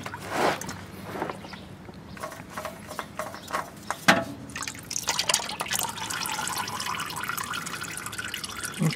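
Car engine oil draining from the drain plug into a pan, starting with drips and small splashes, then a sudden gush that settles into a steady close trickle and pour.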